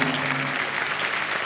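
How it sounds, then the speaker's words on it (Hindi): Studio audience of the quiz show Kaun Banega Crorepati bursts into applause after a correct answer, a brief, loud, dense clapping that stays steady for its short duration. "ताली बज रही है."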